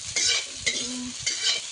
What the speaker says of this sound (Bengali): পেঁয়াজ একটু বাজা বাজা হইলাই বাজা বাজা হয়ে ম্যাগি একটু দিলাই